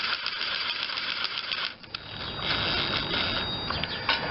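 Small metal engine head bolts being spun in by a socket on a Briggs and Stratton 16.5 hp engine from an Ariens mower, giving a steady close run of light metallic ratcheting and clinking with a short pause midway.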